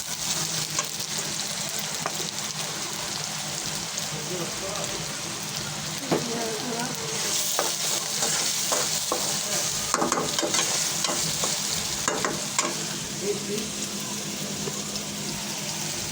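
Food sizzling in a frying pan while being stirred and mixed with salt, a steady bright hiss broken by repeated scraping strokes, moderately close, with occasional speech in the background.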